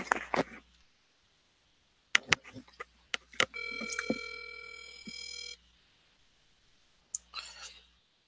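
Telephone call ringing out, a steady tonal ring lasting about two seconds between clicks and handling noises, with brief pauses before and after.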